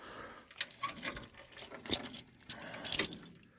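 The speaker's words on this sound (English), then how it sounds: "So we take these safety chains" Safety chains on an 18-foot car hauler trailer jangle and clink in several short metallic bursts at close range, with no talking.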